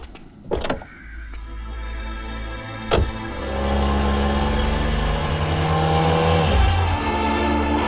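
A car door clunks and latches, then an engine starts and settles into a steady, loud, close idle and rumble that carries on as the car pulls away, with no talking.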